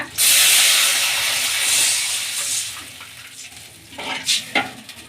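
Water poured into a hot pan of oil with green chillies and curry leaves bursts into a loud steamy hiss and sizzle, then settles into a quieter bubbling as a spoon stirs and scrapes a few times.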